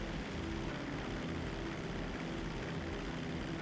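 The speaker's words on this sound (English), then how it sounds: "The plane is slowing down. The plane is trying to land." Fixed-wing airplane engine in the video game GTA V, a steady continuous propeller drone as the plane slows to land, loud and unbroken with no talk.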